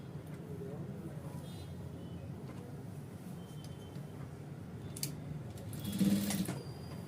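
A sewing machine stitching around the waistband of an ankle-length stretch pant, a steady fast mechanical whir running throughout, with a short bright clatter near the end.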